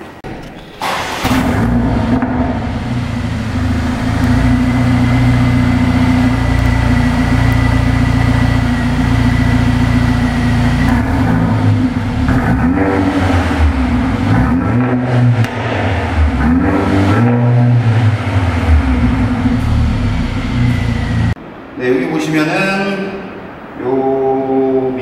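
A Mercedes-AMG A45 engine revs hard in park, limited to about 4000 rpm, holding high, then dropping and rising in repeated surges before cutting back near the end; loud and close.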